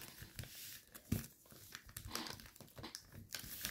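Paper being folded and creased for an origami helicopter, a close, quiet run of crinkling and rustling with one sharper crunch, continuing without pause.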